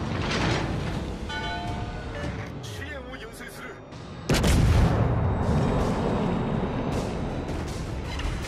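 Heavy naval guns boom in World of Warships: Legends, with rumbling blasts and a big loud salvo midway, under intermittent game voice chatter and background battle noise.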